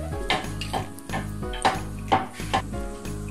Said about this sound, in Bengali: ওইটা আসার জন্য আমি মশলাগুলো ভেজে নিচ্ছি